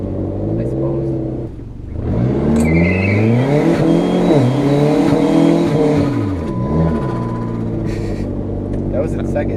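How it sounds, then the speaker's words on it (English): A PT Cruiser GT with a second-generation intake manifold conversion doing a burnout, engine revving loud and close with rising and falling pitch sweeps, a brief dip near two seconds, tire squeal underneath and voices talking over it. "Should we do a little burnout?"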